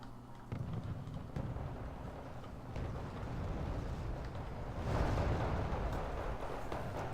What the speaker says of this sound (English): the RBS is taking howitzer fire